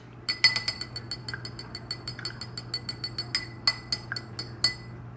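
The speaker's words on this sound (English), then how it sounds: "So my next color, I'm going to wash my brush." A paintbrush being washed in a glass of water, tapping and clinking against the rim in a quick, irregular series of bright, close chimes over a faint steady hum.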